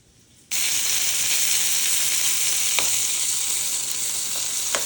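Meat searing in grapeseed oil in a hot pan: a loud, steady sizzle that starts abruptly and holds throughout, with a few faint clicks of stirring.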